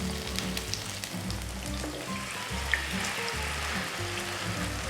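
Kimchi pancakes fry in oil in a pan, producing a steady, even crackling sizzle with a low background hum and no other sounds.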